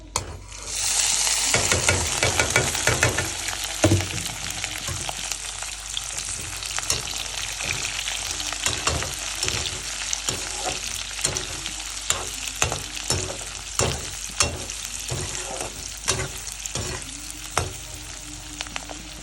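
Food sizzles and fries steadily in a pan on a gas stove, with a loud continuous hiss and sharp clinks and scrapes of stirring recurring throughout, no talking.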